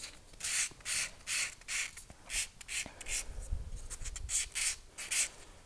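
A sanding tool works the outside edge of an Aureus bronze cuff bracelet in quick, regular back-and-forth strokes, about a dozen rasping passes close up with no talking.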